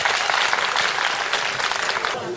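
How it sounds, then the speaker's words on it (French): An audience at a meeting of an NGO with local officials claps for the deputy mayors, a dense, sustained burst of many hands clapping at close range with steady intensity throughout. "Applaudissez pour eux d'abord s'il vous plaît"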